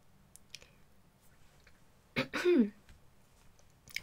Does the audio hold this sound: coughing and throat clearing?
yes